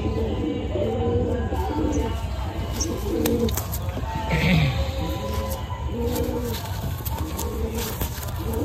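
Gola Madrasi pigeons (Madrasi kabootar) give repeated low, rolling coos in soft phrases throughout, over steady background noise with a few faint chirps and clicks.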